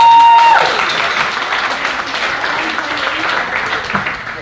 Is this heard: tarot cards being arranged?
no